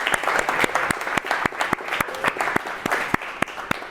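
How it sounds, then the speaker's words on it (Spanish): An audience at a university talk applauds a speaker, a dense, steady round of clapping from a crowd filling the room, with a few sharper individual claps standing out. "le voy a pedir un aplauso para Franco, por favor."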